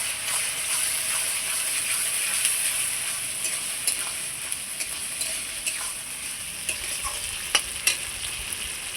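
Onion frying in a pan with ginger, cumin and dried chilli for a catfish curry, a steady bright sizzle with scattered stirring clicks and pops, no talking.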